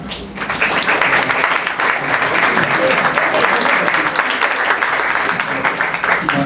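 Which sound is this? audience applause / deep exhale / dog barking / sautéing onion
audience applause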